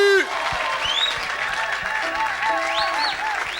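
A church congregation applauds for Jesus at a lively service, the clapping running beneath singing or musical tones and steady thumping beats, with voices heard throughout.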